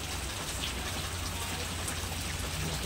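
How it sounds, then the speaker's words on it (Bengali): Heavy cyclone rain from Remal drums down nearby, a thick, constant patter and wash of water on surfaces, steady and loud without any break. "দেখতে পাচ্ছ বন্ধুরা, প্রচণ্ড বৃষ্টি পড়ছে"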